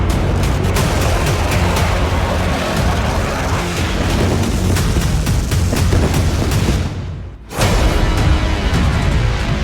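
Dense, continuous barrage of explosions from Israeli airstrikes with bombs and missiles on Houthi fighters, loud booms and blasts layered into a constant roar that cuts out briefly near the end before resuming.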